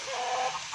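A chicken clucks in one short, drawn-out burst, fairly close and moderately loud, with no talking over it.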